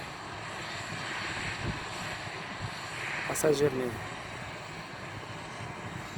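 A passenger aircraft landing at a Riga airport, its engine roar a steady, fairly distant drone with a brief louder swell midway, while a person talks over it.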